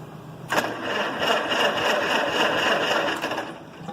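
A small engine running and given a little throttle after a sharp start, holding a steady buzzing drone with slight rises for a few seconds before easing off.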